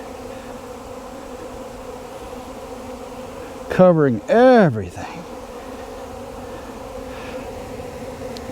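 A dense steady hum of bees swarms around spilled honey at a hive box being fed back to them, close and continuous, with a brief louder buzzing pass near the middle and a voice speaking briefly.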